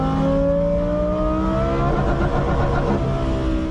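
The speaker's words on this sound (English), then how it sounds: "Those downshifts, they sound sick." Car engine revving hard through a series of downshifts, heard from inside the cabin, with sweeping harmonic tones rising and falling as revs blip between gears; loud and continuous with no talking.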